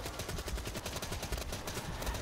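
Rapid automatic gunfire from a Black Ops 3 Zombies match, a dense, continuous burst of shots close up that fills the whole moment with no gaps and no voices over it.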